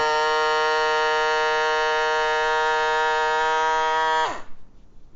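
The electric pump of an ABOX food saver vacuum sealer drones loudly with a buzzing, harmonic whine for about four seconds, then cuts off abruptly and winds down into quiet.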